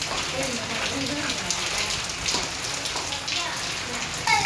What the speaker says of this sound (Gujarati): હવે વરસાદે વધતો જાય છે. વરસાદ ધીમો તો પડતો નથી પણ વધતો જાય છે વરસાદ તમે જો.